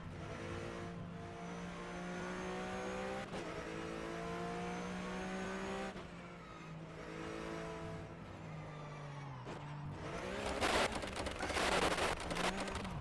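Porsche Cup race car flat-six engines in the rFactor2 racing game, revving up and down through gear changes with sharp shifts, the engine roar rising into a rougher, noisier burst near the end.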